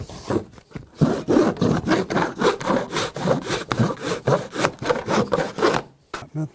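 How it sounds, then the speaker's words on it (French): A hand saw cuts across an Onduline corrugated roofing sheet in a steady run of about fifteen rasping back-and-forth strokes, close and loud, stopping briefly at the end. "en cas de besoin d'une coupe dans l'autre sens, on va utiliser la scie égoïne qui est le plus pratique"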